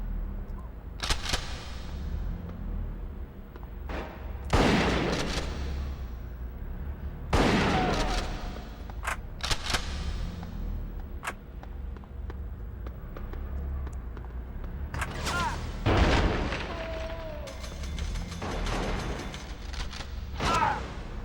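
Gunfire in the PS2 video game Bad Boys Miami Takedown, several loud sharp shots in irregular bursts, with a few quick clustered volleys and mechanical clicks between them.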